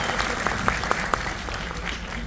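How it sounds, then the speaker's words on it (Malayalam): A handful of sharp, separate hand claps ring out at a Bharatanatyam dance event, spaced irregularly over a steady room murmur, fairly faint and brief rather than a full ovation. "ഒരു കയ്യടി"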